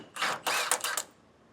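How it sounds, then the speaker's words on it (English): A small stubby ratchet tightens a bolt while a TorkLift SuperHitch Class V trailer hitch is fitted to a 2018 Chevrolet, giving a few short, close bursts of clicking. "I just have this little stubby ratchet that I'm able to fit up into place and get it locked onto our bolt."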